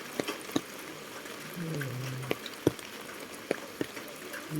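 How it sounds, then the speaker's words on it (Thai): Rain falling outdoors in wet weather, a soft steady hiss with scattered drips and taps, fairly faint and without talk. "ฝนก็ตกนะฮะเนาะ"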